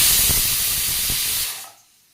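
Steam hisses loudly and steadily out of a pressure cooker being vented after cooking urad dal porridge, a broad continuous rush with a couple of faint knocks, then cutting off abruptly to near silence at the end.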